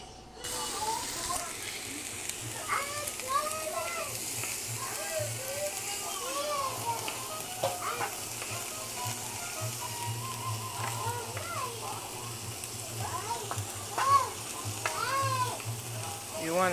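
Shoulder pork chop stuffing sizzles steadily in a pan as it is stirred, a low crackling bed running throughout while a person talks over it.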